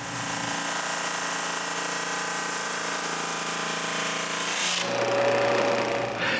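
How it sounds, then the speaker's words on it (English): A drum sander running through glued-up wood panels, giving a steady mechanical hum and whine that shifts abruptly near the end as the panel leaves the drum, leaving the motor running in a different tone. "When the glue is dry, I pass all my glue-up panels through the drum sander to have the right"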